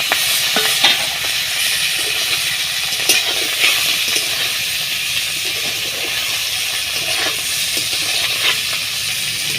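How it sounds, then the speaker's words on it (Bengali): Shrimp sizzle and hiss in hot oil in a wok on a stove while a mocha and prawn ghonto is cooked, with a steady bright crackle throughout and a few sharper spatters and stirring clinks. "চিংড়ি মাছটা ভাজা হয়ে গেছে"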